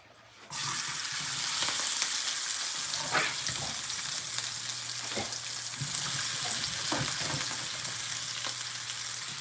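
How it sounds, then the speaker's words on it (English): A batch of food fries in hot oil in a home kitchen with a steady, close sizzle throughout and a few faint clinks and stirring sounds. "So we're gonna do one more batch of frying"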